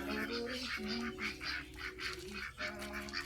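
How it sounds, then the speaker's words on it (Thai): Khaki Campbell ducks on a farm honk and quack in a continuous chorus of overlapping nasal calls, close and loud throughout. "เป็ด กากี แคมเบลอะเล่นน้ำแบบ โคลนอะ"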